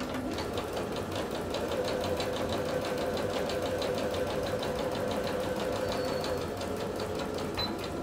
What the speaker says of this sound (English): We're going to back stitch at the beginning and the end.